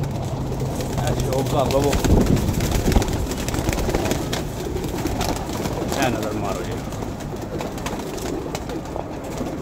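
Pigeons coo softly in low, rolling calls beneath steady conversation between men, with a busy background hum throughout.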